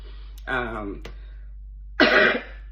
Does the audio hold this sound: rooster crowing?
no